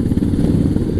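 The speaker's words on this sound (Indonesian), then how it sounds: "Kenapa tuh pada berisik? Alah malah geber-geber di depan." Motorcycles rev their engines on a trail through a village, a dense, steady low rumble with uneven throttle pulses that stays loud and close for the whole moment, with no voices over it.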